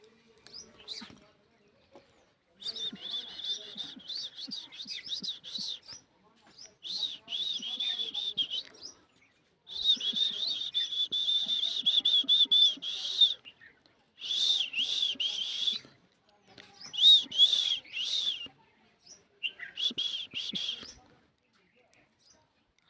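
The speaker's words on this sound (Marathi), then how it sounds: "पिंगळ पक्षी म्हणतात त्याला." A pingal bird calls repeatedly in bursts of rapid, high whistled chirps separated by short pauses, fairly close and clear against a quiet background.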